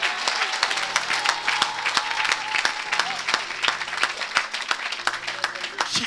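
A church congregation applauds and cheers for Jesus at a Sunday deliverance service, dense continuous clapping from a large crowd filling the room, steady and close throughout.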